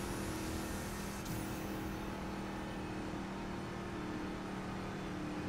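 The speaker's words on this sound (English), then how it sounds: "Traffic." Steady road traffic from cars passing in The Crew racing game, a continuous engine drone with a faint whoosh of a vehicle going by, even in level throughout with no talk.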